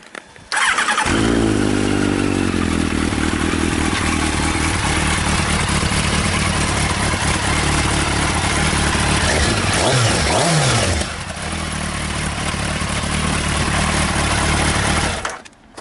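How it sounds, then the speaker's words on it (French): A Yamaha XJR1300 four-cylinder 1300 cc motorcycle engine starts and settles into a loud, close, steady idle with a brief blip of revving near the end before it cuts off. "Je vais vous la démarrer pour vous faire écouter un petit peu le son de ce 4 cylindres."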